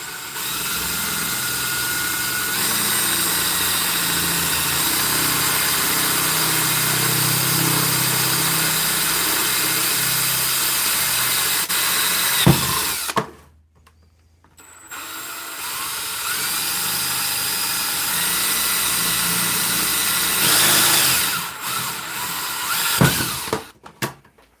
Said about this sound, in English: The next thing we're going to do is drill the 2 spots for the knobs.